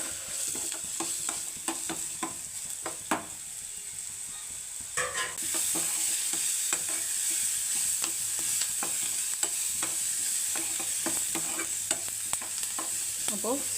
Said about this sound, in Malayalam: അപ്പോൾ സവാള നല്ല വഴണ്ട് വന്നിട്ടുണ്ട്.